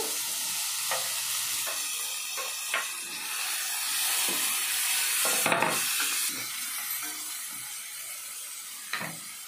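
Tomato, ridge gourd peel and mint frying in a pan, a steady bright sizzle and hiss with intermittent stirring scrapes and clicks, close and moderately loud, with no talking.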